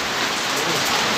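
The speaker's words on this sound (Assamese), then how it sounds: "বৰষুণ পুৰা দিছে" Heavy rain pours down in a steady, dense hiss, loud and unbroken throughout, with no distinct drops or thunder standing out.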